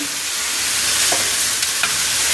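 Meat cooks in a pan on a home stove, giving a steady, close sizzle throughout, with a couple of faint taps as it is stirred.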